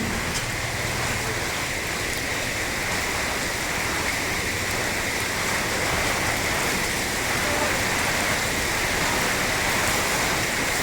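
Rain falls steadily over an outdoor fresh-vegetable market in Thailand, a dense, even hiss of drops on surfaces that holds at a constant level throughout.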